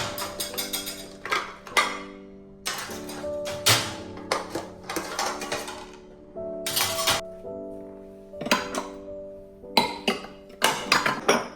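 Washed kitchen utensils such as forks, spoons and spatulas clink and ring as they are set back into cabinets, with repeated close metallic and glassy clatters in irregular clusters and short pauses between them.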